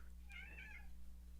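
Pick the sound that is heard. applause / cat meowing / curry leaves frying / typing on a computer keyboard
cat meowing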